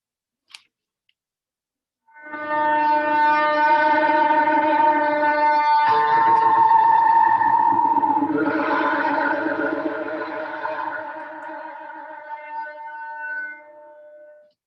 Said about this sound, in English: That feedback is very interesting because it also sounds a bit like trumpets, but very scary trumpets